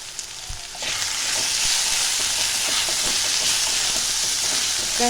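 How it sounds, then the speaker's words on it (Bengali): Spices with turmeric and salt being sautéed in an oiled pan for Bengali mutton keema ghugni: after a few light knocks, a loud, close, steady sizzle erupts and holds, with faint stirring scrapes underneath. "সব মিশিয়ে ভালো করে একটু কষিয়ে নিতে হবে।"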